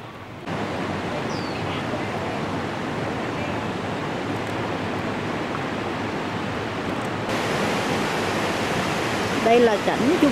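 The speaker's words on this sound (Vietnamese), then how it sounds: "Các bạn có thể dễ dàng nghe được tiếng thác ở sát bên chùa Linh Ứng." A waterfall roars steadily beside Linh Ung pagoda in Da Lat, a dense continuous rush of falling water that holds nearly constant, growing slightly fuller toward the end.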